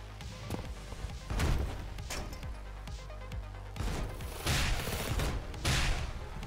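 A turret in the video game SANABI fires in bursts, rapid thudding shots in several volleys with gaps between, loud and punchy over a low rumbling background.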